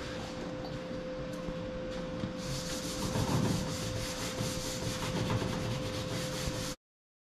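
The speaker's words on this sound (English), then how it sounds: "we're gonna Scotch-Brite this thing up" A Scotch-Brite pad scuffs across a painted restomod truck panel with fake patina paint, giving steady close abrasive rubbing that grows louder and coarser partway through, with a constant tonal hum underneath and no talking.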